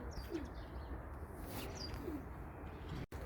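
Pigeons coo softly in a few low, separate calls against a steady background hum, with no one talking.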